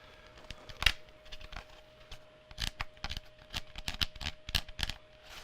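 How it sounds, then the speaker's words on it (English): Razor blade slicing tough material from a Jeep Wrangler Defender kit: faint, close scratchy cutting strokes and crackles, irregular bursts of scraping coming in quick clusters. "it's kind of tough to It's cut. hard to cut with a razor blade"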